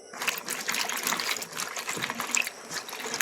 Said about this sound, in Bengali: জল পাল্টে দু তিনবার আমি এইভাবে ধুয়ে নেবো